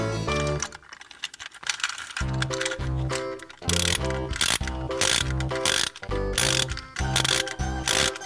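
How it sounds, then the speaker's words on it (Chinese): Clockwork spring of a transforming mech dinosaur toy being wound, a loud run of rapid ratcheting clicks in repeated bursts, close up with no talk. "把我们的这边的发条连续旋转"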